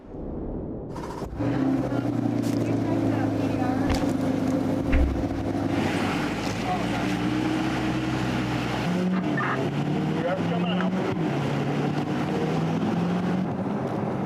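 A 2022 Chevrolet Corvette C8 engine drones steadily at speed on the Indianapolis Motor Speedway, pitch shifting as it shifts gears and corners, with faint tire noise; no talking.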